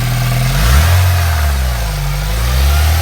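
A BMW E82 petrol engine, suspected of worn bearing shells, revs up from idle as the throttle is blipped, a loud, close, steady mechanical roar that rises and settles without any talking.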